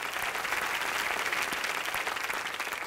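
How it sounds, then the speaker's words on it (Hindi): A studio audience on a Hindi TV game show breaks into loud, sustained applause, a steady dense wash of clapping that carries on for several seconds without talk. "जोरदार तालियां"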